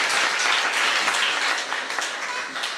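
A church congregation at a Christian conference claps and applauds loudly and continuously, a dense wash of many hands at steady strength, then easing slightly toward the end.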